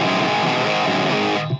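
Gritty, fizzy distorted electric guitar through a ToneX Brown Sound 82 preset rings out as a sustained chord, bright and saturated, then cuts off abruptly.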